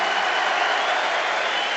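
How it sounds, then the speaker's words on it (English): Carlisle United football supporters applaud a substituted player leaving the pitch during extra time at a cup final, a steady, dense wash of clapping from a large crowd with no break. "Mountfield is the player that comes off to rousing applause from the Carlisle United supporters"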